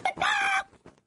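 A hen gives a short, loud cluck followed by a couple of softer clucks, close by and alone, lasting about a second.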